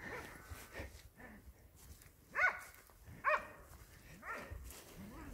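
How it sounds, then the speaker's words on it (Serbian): Hunting dogs in training on wild boar bark in the woods, with two sharp loud barks standing out among quieter yips and whimpers at mid distance, and someone talks quietly now and then. "Samo bolje laje, oštrije kad je u par nego sam."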